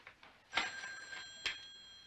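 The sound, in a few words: telephone ringing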